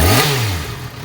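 A 2012 Yamaha FZ6R sport bike with a detuned R6 engine revs sharply once, and the note then falls away quickly as the engine settles back toward idle, close and loud.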